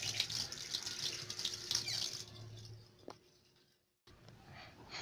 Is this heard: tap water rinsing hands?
yes